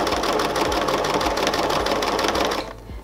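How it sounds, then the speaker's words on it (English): A sewing machine stitches quilt binding in a fast, steady run of needle strokes with faint periodic thumps, then stops abruptly near the end. "Sew to level with that nick and stop with your needle in the down position."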